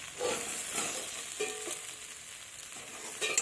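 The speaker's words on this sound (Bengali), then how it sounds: "এইভাবে আমি কষিয়ে নেব আলুগুলো।" Potatoes and chopped tomato stir-fried in a pan for a fish dish, giving a soft sizzle with intermittent scraping stirs, close and moderately quiet, no voices.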